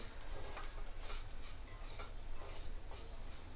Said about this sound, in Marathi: हा जो एक वाटी रवा घेतलाय हा पूर्णपणे मी मिसळतो यामध्ये ह्याला प्रॉपर ह्याला पूर्णपणे ढवळत राहायचं